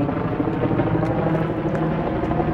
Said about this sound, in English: sorry about the helicopters